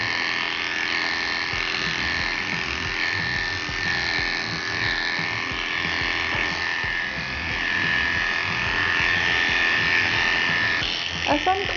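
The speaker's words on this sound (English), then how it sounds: "I'm just going to then go over her body and make sure my clipper work is all nice and smooth" Electric dog clippers running steadily while grooming a toy poodle's body, a constant close buzzing hum with a brief clatter at the end.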